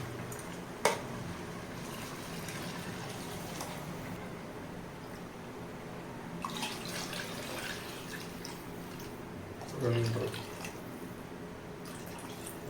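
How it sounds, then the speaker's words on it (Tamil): Water is poured into a pot of stirred rice for a homemade bachelor-style biryani. A steady, soft trickle and splash run for about thirteen seconds, with one heavier slosh near the end and no talk. "இப்போ தண்ணி ஊற்றிக்கலாம்."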